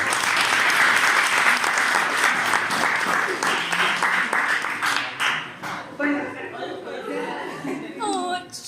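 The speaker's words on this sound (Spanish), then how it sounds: "Un aplauso, por favor, para ella." An audience at an online talk applauds a speaker: dense clapping for about five seconds, thinning into scattered claps with some chuckles and murmured voices as it fades.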